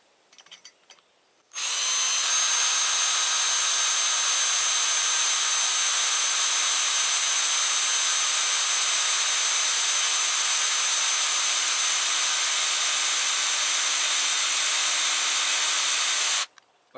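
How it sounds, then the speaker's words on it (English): An oiled 1/8 inch drill bit bores a hole, a loud steady high-pitched power drill whine running without pause for about fifteen seconds between brief quiet moments at start and end. "We're going to start the hole with a 1/8 inch."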